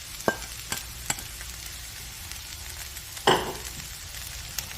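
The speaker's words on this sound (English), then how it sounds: "you want to mix that up with your veggies" Shredded cabbage is stirred into a skillet of frying ground turkey and vegetables. A soft, steady sizzle runs throughout, broken by a few sharp scrapes and clacks of the spoon against the pan, with one louder knock partway through.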